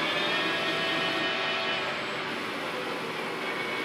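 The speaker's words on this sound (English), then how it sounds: "We have control over the spindle. We slow the spindle down." An Acra CNC lathe spindle runs with a loud, steady, close whirring hum. No clear shift in pitch stands out, and no one talks.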